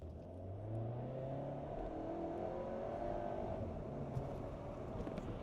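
A Skoda Octavia RS, a 265-horsepower petrol car, brakes on a slightly wet road, heard from inside as a steady low engine and road rumble that eases, fairly quiet and with no talking.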